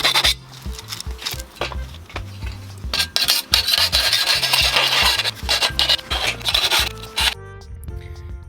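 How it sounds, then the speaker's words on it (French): A metal file rasps in quick, uneven strokes over the cut ends of a broken 24MX gazebo tube, scraping close and loud with short pauses between bursts, ending in quieter handling noise. "On lime tout ça pour que ce soit propre"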